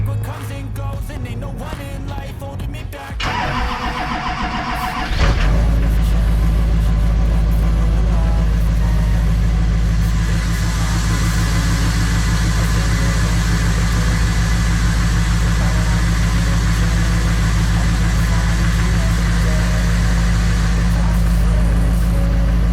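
A Humvee's engine runs steadily with a deep, heavy low rumble, close and constant after a brief burst of clattering and rougher noise at the start.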